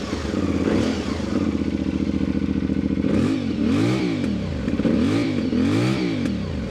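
A CFMoto Ibex 450 motorcycle engine revs repeatedly in rising and falling sweeps, with crackling exhaust pops between revs, loud and close.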